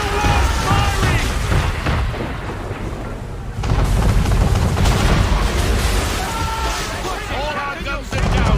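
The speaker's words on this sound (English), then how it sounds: "Man of war! We're under attack!" Man-of-war warship cannons firing in Assassin's Creed III, booming blasts and rumbling impacts over ocean noise while voices shout over the battle.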